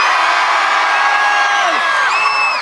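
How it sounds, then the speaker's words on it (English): Crowd at a concert in Manila screaming and cheering, a dense sustained roar of voices with individual high whoops and yells rising out near the end. "You ready to scream at the top of your lungs?"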